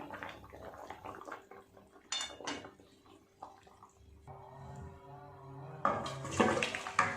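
Vegetable broth poured out of a cooking pan, splashing and trickling liquid in uneven bursts with metallic knocks of the pan, ending in a fuller pouring rush.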